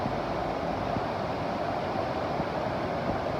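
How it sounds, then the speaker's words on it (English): The Middle Fork of the Kaweah River in Sequoia National Park rushes past in a steady, broad wash of flowing water, close and unbroken with no voices. "So peaceful down here with the sound of the water."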